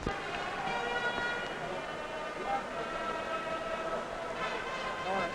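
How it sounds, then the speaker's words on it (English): The period-ending siren at the Montreal Forum during a 1968 NHL game between the Blackhawks and the Canadiens wails steadily over the roar of the arena crowd, heard distantly and faintly under the broadcast. "there goes the siren to end the second period"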